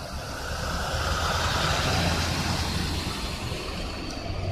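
A vehicle rolls past a multi-car crash scene, a steady broadband road roar and engine rumble that holds at constant loudness throughout, with no speech.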